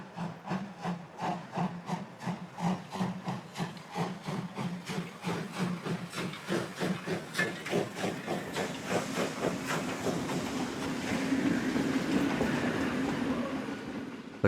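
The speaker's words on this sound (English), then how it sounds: "the last year in which the steam locomotive took the lion's share of rail traffic" A Prussian P8 steam locomotive works a train on Romanian state railways in 1969, with loud, rhythmic exhaust chuffs that quicken and then merge into a rolling rumble and hiss as it passes close by.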